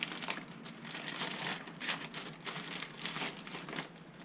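A plastic Ziploc bag holding an envelope is handled up close, giving a steady run of crinkling and rustling with short louder crunches and no speech.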